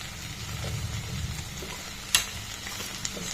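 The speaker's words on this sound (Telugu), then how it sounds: "అప్పుడు టమాటోస్ వేసుకున్నాం. చూడండి ఫ్రెండ్స్, ఇలా కొంచెం వేగాయండి." Okra and tomatoes frying in a pan give a close, steady sizzle, with a sharp clink of a utensil partway through.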